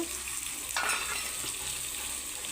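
Soaked chickpeas, peas and cowpeas are stirred in a hot pan for a tempering dish, with a soft scraping stroke over a faint, steady sizzle.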